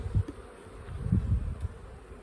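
Honeybees buzz around an opened hive during an inspection, a low steady drone with a few louder swells as bees pass close, fairly quiet and with no voices.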